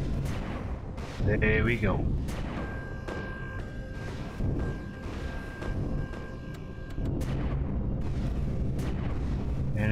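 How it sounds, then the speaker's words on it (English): Gunfire in the space game Empyrion comes as repeated booming shots and bursts at irregular intervals, with a sustained tone running through the middle. Someone talks briefly over the shots. "I'm getting shot, but I don't see the shots."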